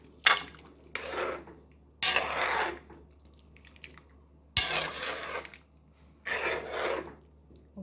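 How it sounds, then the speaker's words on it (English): Stirring inside a cooking pot of Caribbean pumpkin soup with cocoa and other food, several separate bursts of wet scraping and clinking, each lasting about a second, close and fairly quiet, with no talking. "we're going to just toss that in the pot as well. Yeah man, we're going to give that a good little stir."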